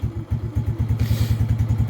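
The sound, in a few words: Lifan King motorbike engine restarting after cutting out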